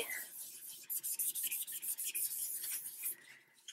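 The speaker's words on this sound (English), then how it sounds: "And then I'm going to just rub over it." Paper towel with a tiny dab of cleaner rubbed over a sticker on a book cover, giving close, quiet scratchy strokes in a steady back-and-forth rhythm with no talking.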